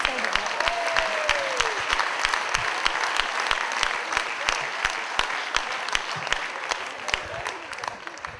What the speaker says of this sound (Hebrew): עכשיו תמחאו כפיים, זה בסדר.